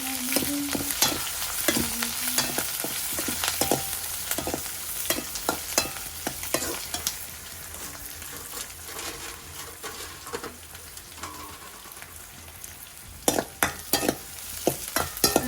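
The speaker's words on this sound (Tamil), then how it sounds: "வெங்காயம் நல்லா முறுமுறுன்னு வேறணும்" Onions and curry leaves fry in a pan for a chicken kurma, a continuous crackling sizzle broken by frequent scraping and clacking stirs, near and fairly loud, no voices.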